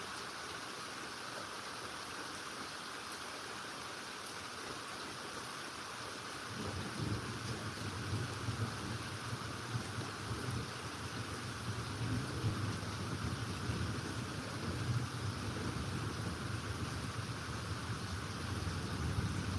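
Steady rain falls through a morning thunderstorm, a constant hiss joined partway through by deep rolling rumbles of thunder that linger to the end.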